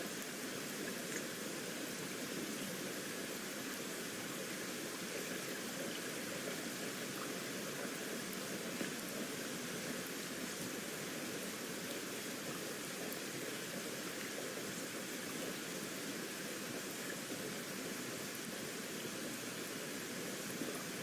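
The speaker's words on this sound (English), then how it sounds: "sorry if the rain sounds and that are louder this time" Constant rain hiss, an even, dense wash of noise with no change in level over the whole stretch, no voices present.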